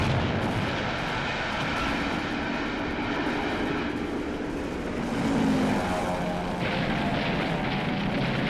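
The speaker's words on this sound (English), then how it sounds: "The few planes they have scramble to intercept the attackers." Aircraft roar through a dense, rumbling wash of wartime noise as planes scramble to intercept attackers, the sound loud and continuous with a brief swell near the middle.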